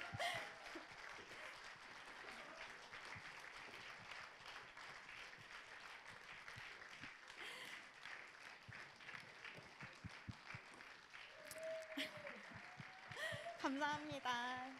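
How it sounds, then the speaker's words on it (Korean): Audience applause fills a hall after a choir's finale at a Christian reunification prayer concert, steady and sustained throughout, with a voice speaking over it near the end. "박수가 끊이질 않습니다."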